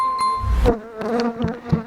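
Buzzing bees and wasps hum around close by at an apiary, a wavering drone rising and falling over about two seconds.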